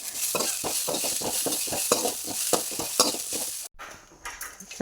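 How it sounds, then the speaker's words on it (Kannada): Onion, garlic and curry leaves sizzle in hot oil while a spoon stirs and scrapes the pan in a quick, regular rhythm. The sizzling stays close and steady, then cuts off abruptly near the end, followed by faint kitchen clatter. "ಈರುಳ್ಳಿ ಬೆಳ್ಳುಳ್ಳಿ ಮತ್ತು ಕರಿಬೇವು ಸೊಪ್ಪು ಇಷ್ಟನ್ನು ಹಾಕಿ ಫ್ರೈ ಮಾಡಿ ತೊಗೊಳ್ತೇನೆ"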